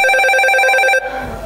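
A telephone rings loudly and steadily for about a second, then cuts off, leaving a faint low hum.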